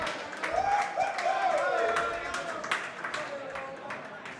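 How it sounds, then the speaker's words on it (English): Cheering and clapping from a crowd at a World Rules Pool Tour event drift in from a neighbouring table as distant background noise, with a few sharp claps standing out beneath a nearby voice talking. "Very loud cheering you can hear in the background as the conclusion of the other quarter-final."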